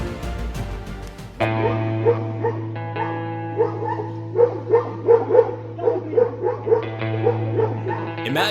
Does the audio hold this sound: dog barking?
yes